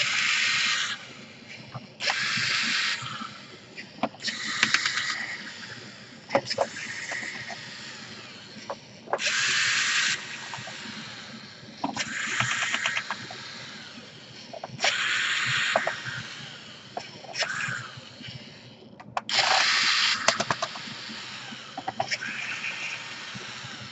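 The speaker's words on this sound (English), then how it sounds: "you need to unscrew every single screw you see" Screws being backed out of a Toshiba C655 laptop with a screwdriver: close, repeated bursts of squeaky grinding and rubbing, each a second or two long, separated by short pauses, no talking.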